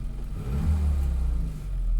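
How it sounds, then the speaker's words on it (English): A 1959 Mini car engine idles steadily with a low, throbbing rumble, close and continuous, slightly rising in level partway through. "Now look at that, ticking over lovely."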